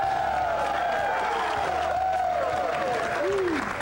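A stadium crowd of Fruitport Fighting Trojans football fans cheers and applauds steadily, with a dense wash of clapping and shouts throughout, while a voice carries over the noise.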